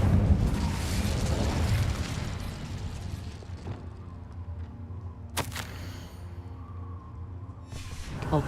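A fire spell is cast in Hogwarts Legacy, starting with a loud roaring whoosh of flame that tapers off, followed later by a sharp crack and a few smaller bursts.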